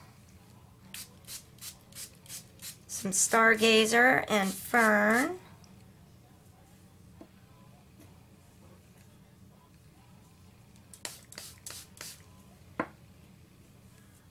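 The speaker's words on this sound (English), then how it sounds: "So I'm just going to spray this." Quick bursts of a hand pump water mister spraying Luminarte pigment mixed with gum arabic and water, a few sharp hissy puffs at the start and again near the end, with someone talking briefly in between.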